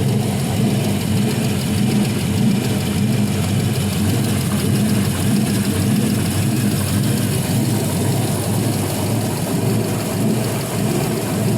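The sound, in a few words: 5.3L LM7 engine with LS1 cam running on test stand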